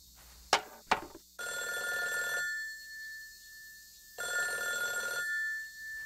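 Telephone ringing in an animated TV series episode, a couple of sharp clicks followed by two long electronic bell rings with a pause between, clear and close with no talking.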